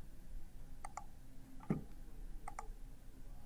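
A few sharp, quiet mouse clicks in a software demonstration, spaced irregularly over a few seconds against a soft room background, with no speech.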